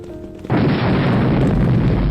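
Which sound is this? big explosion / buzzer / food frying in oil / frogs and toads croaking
big explosion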